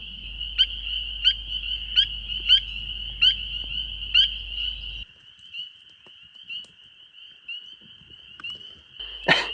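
Frogs calling at night beside a wild lake in a forest, a steady high trill with regular pulsing bursts, a low rumble underneath for the first half, then the chorus continuing alone before a loud close knock at the end.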